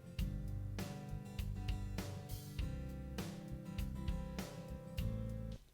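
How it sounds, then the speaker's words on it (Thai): Guitar playing within a band mix, strummed chords struck in a steady rhythm with bass and drums underneath, loud and continuous, with no talking. "นี่กีตาร์นะครับ"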